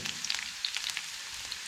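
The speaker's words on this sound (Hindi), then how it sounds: "तो ऑयल गर्म हो चुका है, मैं इसके अंदर प्याज डालती हूँ।" Onions dropped into hot oil for Punjabi-style saag sizzle and crackle steadily, a dense hiss dotted with sharp pops and spits, close and fairly loud with no voices.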